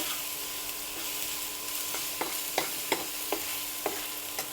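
Mutton kosha ingredients fry in a pan with a steady soft sizzle, while a spoon stirs and scrapes several times, giving distinct clacks roughly every half second in the second half.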